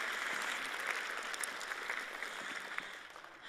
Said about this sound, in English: I'm glad that you're applauding